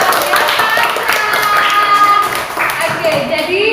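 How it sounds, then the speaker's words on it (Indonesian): A classroom group claps together after a student presentation in a teacher-training lesson, a short busy patter of hands with voices mixed in throughout. "tepuk tangan."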